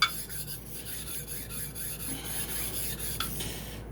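A Vermont green slate hone being lapped with a Niagara stone gives a steady, close gritty rasping scrape that runs unbroken through the whole stretch, with no talk over it.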